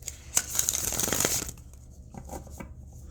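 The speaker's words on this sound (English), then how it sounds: "So then when I shuffle, you're going to get a little of this." Cards being shuffled in a quick riffling burst of crisp flutter, then quieter, sparser card handling with soft taps and slides.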